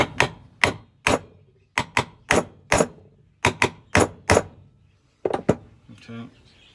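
A bearing is tapped into a Stihl MS460 chainsaw casing with a dozen sharp, close metallic knocks in an uneven rhythm, a few quick pairs, ending with a faint rattle.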